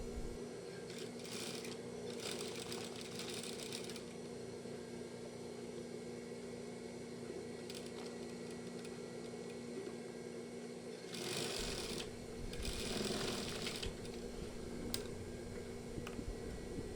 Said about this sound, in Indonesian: Sekarang kita bisa langsung jahit.